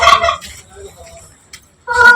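Fowl kept at a home in Kerala, calling in two loud, close bursts of rapid throaty gobbling-like clucks separated by a quiet pause.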